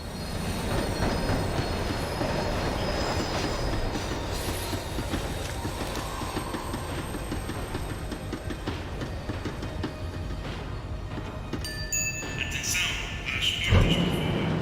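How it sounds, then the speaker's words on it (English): A tram slows on its rails in the video game Max Payne 3, with a steady rumbling roll, rhythmic wheel clatter and high squealing wheels, then a sharp metallic clank near the end. "The tram was slowing down, and I'd only just gotten on board."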